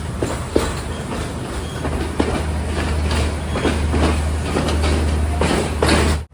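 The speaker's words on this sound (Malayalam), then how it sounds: "ട്രെയിൻ അങ്ങനെ തിരുക്കോണമലൈ സ്റ്റേഷനിലേക്ക് എത്തിയിരിക്കുകയാണ്" The Colombo to Trincomalee Night Mail pulls into Trincomalee station, a steady close rumble of rolling railcars with repeated wheel clatter and soft clacks from first-class carriages, easing toward a stop.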